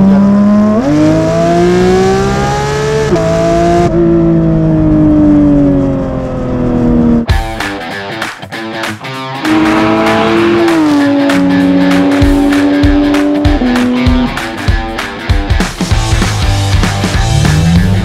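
A straight-piped Porsche 992 GT3 revs hard and pulls through the gears while driving, a loud, high, rising engine wail with sharp shift breaks and popping crackles on lift-off, and no talking.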